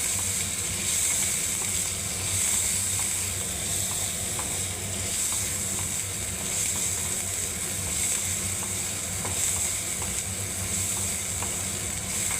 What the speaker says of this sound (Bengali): দেখুন তেলের মধ্যে একটু জিরে দিলাম, পেঁয়াজটাকে দিয়ে ভেজে নিচ্ছি বন্ধুরা